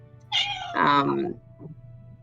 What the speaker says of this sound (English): He has a very loud, annoying meow.